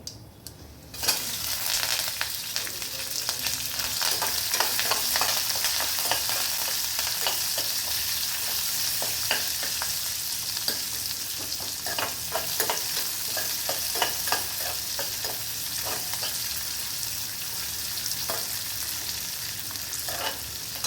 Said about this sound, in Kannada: ಈಗ ಇದಕ್ಕೆ ಉಳ್ಳಾಗಡ್ಡಿ, ಮೆಣಸಿನ್ಕಾಯಿ, ಕರಿಬೇವು ಹಾಕತೀನಿ.